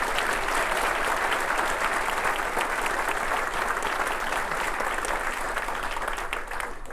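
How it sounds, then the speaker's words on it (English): A large audience at a city State of the City address gives Torrance teachers a round of applause, a dense, steady wall of clapping that holds at full strength the whole time. "Let's give them a round of applause."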